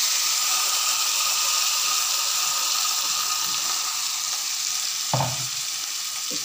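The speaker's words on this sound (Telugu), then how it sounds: "ఇప్పుడు చట్నీని మిక్సీ చేసుకున్న చట్నీ పోసేస్తాను" Ground tomato chutney hitting a hot pan gives a steady, loud sizzle that fills the whole clip, with a short stirring scrape near the end and no voices.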